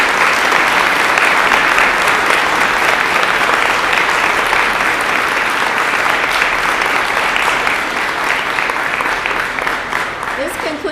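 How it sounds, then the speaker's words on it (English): Sustained, dense applause from a large audience standing for the graduating PA class of 2022 at a white coat ceremony, steady and loud throughout with crowd noise mixed in. "last round of applause"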